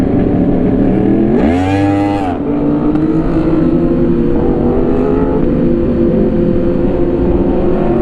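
Sport motorcycle engine, apparently a Yamaha R1, revving hard in one sharp rising-and-falling blip around the two-second mark, then settling into a loud steady idle rumble, close by with no talk.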